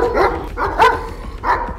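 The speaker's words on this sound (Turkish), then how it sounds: "tehlikeli bir köpek ki, tam anlamıyla görev köpeği diyebiliriz" A guard dog barks three times at a steady pace, loud and close, with a sharp rising yelp in the middle bark.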